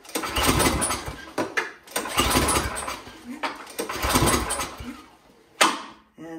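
A Troy-Bilt Storm snowblower engine that won't start is pull-started several times, each yank giving a short rattling recoil-cord burst of the turning engine, repeated about five times without catching, with brief gaps between pulls.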